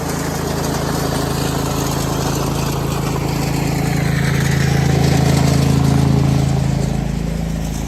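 A pressure washing trailer rig's engine runs steadily at a constant drone, loud and close, with a slight swell in intensity partway through and no voices.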